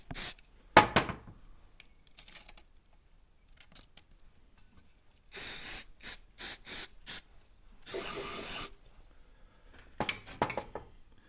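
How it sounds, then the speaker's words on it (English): Aerosol brake cleaner sprayed across a refurbished replacement cylinder head for a 1980 Triumph TR7: close, hissing bursts, a quick run of short squirts followed by one longer blast, with light handling clatter between and no talk. "Then after that, a generous dose of brake clean everywhere."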